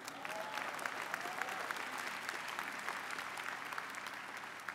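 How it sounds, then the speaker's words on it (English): Applause at the Purchase College commencement in 2017 fills the whole clip with an even, dense crowd clapping that holds steady from start to finish, with no speech over it. "Applause, please."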